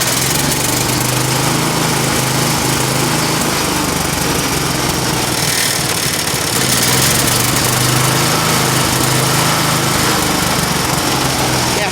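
A Predator 212 small engine runs loud and close with a buzzing drone that rises and falls as its throttle is moved between low and high, with no talking audible.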